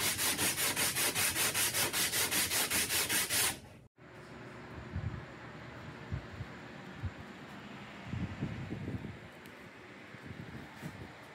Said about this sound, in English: I sanded everything down to the guide marks. 60 or 80 grit works.